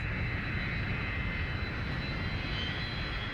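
Steady, loud airplane engine drone with a broad, unchanging roar and faint high whine throughout, no other sounds.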